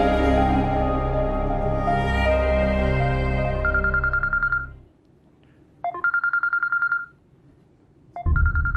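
A loud electronic phone ringtone plays in repeating bursts with short silent gaps between, starting over a low steady hum.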